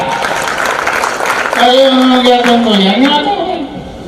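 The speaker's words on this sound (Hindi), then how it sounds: "जोरदार ताली" Applause from a crowd at an event honoring Pandit Deendayal Upadhyay, a broad wash of clapping with someone speaking loudly over it partway through.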